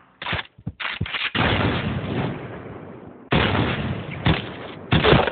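Gunfire in the shooting game Point Blank comes in loud, close bursts: several quick shots, then longer sustained volleys separated by short silences.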